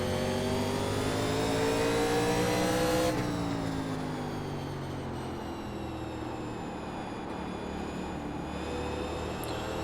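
A 1987 NASCAR Legends stock car engine on the Stafford Speedway short track in iRacing, loud and steady in-car, its pitch rising and then dropping abruptly as the driver lifts, then holding a lower droning tone.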